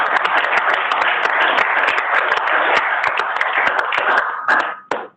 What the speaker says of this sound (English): just want to give a round of applause to all the great speakers